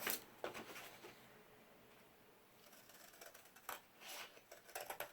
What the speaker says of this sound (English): I'm going to go ahead and use my scissors.